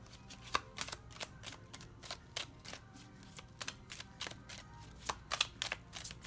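Tarot cards being shuffled by hand, a steady run of crisp riffling and flicking bursts, close and moderately loud, with no talk.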